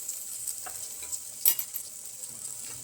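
Chopped tomatoes cooking in oil in a pan for cabbage pulao, giving a steady soft sizzle with a few stirring scrapes and clicks, close and fairly quiet, with no talking.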